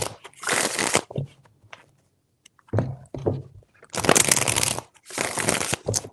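Tarot cards are shuffled in several loud, close bursts of papery riffling, separated by short quiet gaps, with no talking.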